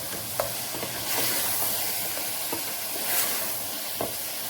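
Ginger, garlic and coarsely crushed whole spices frying in a pan for aloo gosht, a steady close hiss broken by a few brief stirring scrapes, with no voices.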